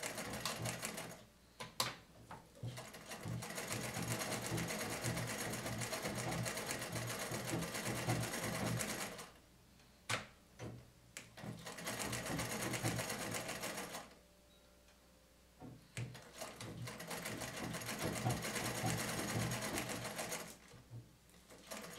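A vintage Bel Air sewing machine stitches in three long runs separated by short pauses, its rapid mechanical clatter close and steady, with no voices.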